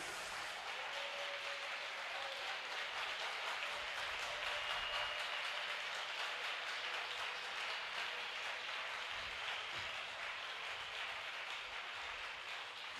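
A church congregation at a Malayalam Christian sermon claps together in a dense, sustained wash of applause that holds evenly for about thirteen seconds, with no one talking over it.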